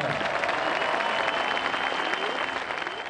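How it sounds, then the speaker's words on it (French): Spectators at the 96th edition of a golf Open applaud the German winner with a steady, even wash of clapping that holds throughout. "Je vous demande d'applaudir Marcel Zim, Allemagne."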